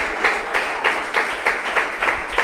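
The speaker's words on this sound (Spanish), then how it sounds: "Denle un aplauso al Señor Jesucristo" Congregation clapping in unison during a Sunday church service, a rhythmic beat of roughly four claps per second that stays moderately loud and even.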